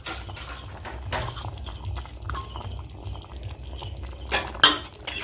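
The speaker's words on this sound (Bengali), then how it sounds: "একটু নেড়ে নিচ্ছি।" A spoon scraping and clinking against a pan while stirring aloo dum, a vegetarian Bengali potato curry topped with chopped coriander, producing intermittent close taps and scrapes with a couple of sharper knocks near the end.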